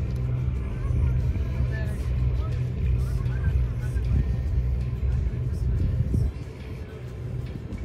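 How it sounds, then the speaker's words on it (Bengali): A ship passes on a river in rural Bangladesh, a steady low engine rumble that holds throughout and eases slightly near the end, with faint background voices. "আবার দেখুন অন্যদিকে একটা জাহাজ আসছে"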